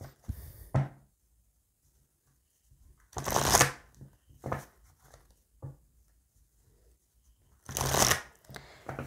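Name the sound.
shuffling oracle cards for a tarot reading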